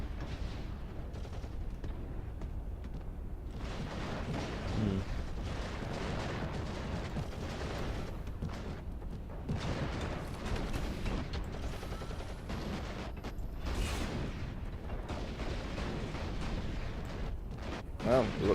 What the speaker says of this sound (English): Well, we've got two las cannons shooting this one.